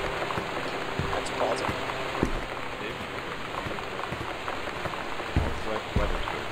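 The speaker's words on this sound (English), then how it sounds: "Northwest Weather Service reports high winds and torrential rain conditions" Heavy rain in the video game Gone Home pours steadily in a dense, even hiss with scattered louder drops and a few dull thumps, unbroken through the whole stretch.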